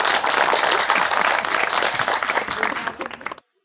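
A TV studio audience bursts into loud, dense applause that holds steady for a few seconds and then stops abruptly.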